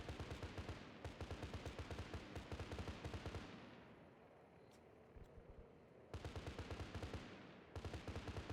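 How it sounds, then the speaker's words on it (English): Rapid automatic gunfire in a video game firefight: loud, dense bursts of shots, a pause with quieter rumbling, then more bursts of gunfire. "I'm just hearing gunshots."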